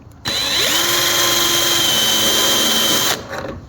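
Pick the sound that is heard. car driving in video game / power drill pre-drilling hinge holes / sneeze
power drill pre-drilling hinge holes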